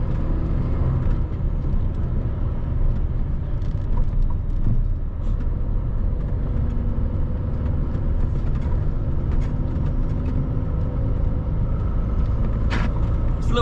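A van rumbles along the M62 motorway, a steady close cabin drone of engine and tyre noise with faint rattles and a few light clicks and creaks over the top.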